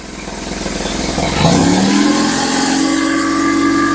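A BMW R1150GS motorcycle engine that has just had its throttle bodies balanced, revving up with a rising pitch, then settling into a steady, loud, close idle with a strong hum.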